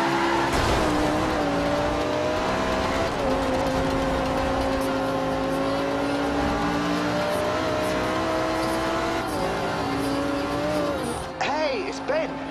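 A supercar's engine drones and shifts through gears while driving in the Forza Horizon 2 racing game, loud and steady throughout, with a sudden change in the sound near the end.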